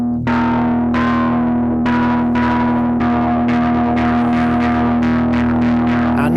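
Korg MS-20 Mini synthesizer sends pink noise through a high-pass filter modulated at a high audio rate, giving a loud, distorted, buzzing tone with a steady drone and repeated bright noisy swells, alone with no talking.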